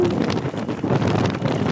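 Strong wind gusts roar steadily across the microphone on a high mountain road in Infanta, Quezon, at nearly 5,000 feet, a dense, buffeting rush with no voices.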